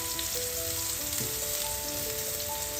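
Semolina-coated pomfret fish frying in hot oil on a tawa, a steady close sizzle with a faint hiss that runs unbroken throughout, no voices over it.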